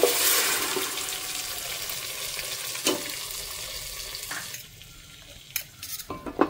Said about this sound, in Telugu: సో ఇవి కొంచెం ఫ్రై చేసేసుకొని లైట్గా ఇవి వేగుతున్నప్పుడే మనం ప్రిపేర్ చేసుకున్న మసాలాను అయితే వేసేసేయాలి.